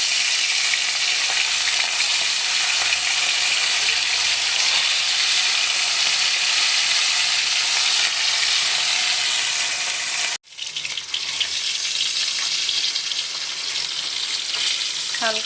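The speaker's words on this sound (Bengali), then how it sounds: "তেলটা গরম করে নিয়েছি, মাছগুলো ভেজে নেব।" Hilsa fish fry in hot mustard oil, giving a loud, steady, crackling sizzle that runs almost unbroken, briefly cut off once before resuming just as intensely.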